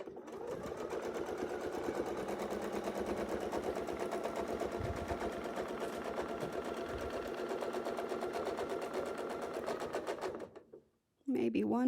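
A sewing machine stitching a quilt along a Westalee wreath template, its rapid even needle clatter running continuously up close before stopping, followed by a brief voice.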